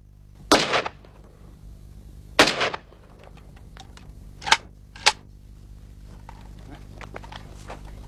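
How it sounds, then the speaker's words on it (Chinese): Two loud, sharp gunshot blasts from a Chinese Type 56 automatic rifle in a 1990s crime drama, each with a short echoing tail, followed by faint scattered clicks and knocks. "自动步枪"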